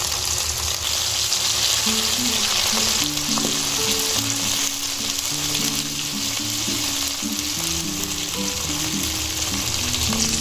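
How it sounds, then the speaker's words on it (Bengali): Okra coated in besan batter fries in mustard oil, making a loud, dense, continuous sizzle up close, with a low tonal line running underneath and no voices. "ঢ্যাঁড়সটা ভাজা হয়ে গেছে, এবার আমি তুলে নেব।"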